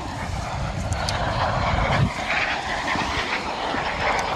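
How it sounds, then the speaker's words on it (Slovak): MiG-15 UTI jet trainer flying at an air show, a steady loud roaring engine wash that swells slightly midway and holds throughout. "MiG-15 UTI, ktorý v tom označení leteckých síl NATO dostal označenie Fagot"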